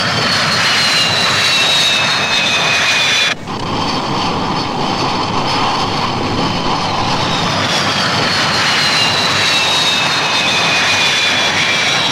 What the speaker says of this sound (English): The Vixens join the circuit as the carrier swings into wind and picks up speed, ready to receive the returning aircraft.